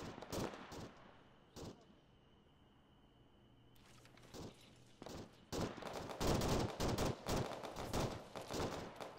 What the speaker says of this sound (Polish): Strzały na west, uważajcie.